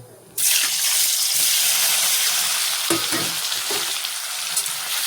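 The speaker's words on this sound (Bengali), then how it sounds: "তেলটা গরম হোক এবার আমি পনিরটা ছেড়ে দেবো" Paneer hits hot oil and erupts into a loud, steady sizzle that continues evenly, with a few faint clinks of stirring beneath it and no talk.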